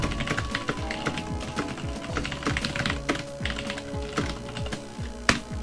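Fast, close typing on a computer keyboard, a dense run of crisp key clicks and clacks with a faint steady hum beneath and a sharper keystroke near the end.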